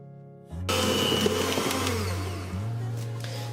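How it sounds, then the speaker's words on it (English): Electric hand beaters switch on with a sudden whine and keep running steadily, mixing caraway cake batter in a bowl, the motor pitch dipping then rising again as they work through the mixture. "So just turn on your electric beaters"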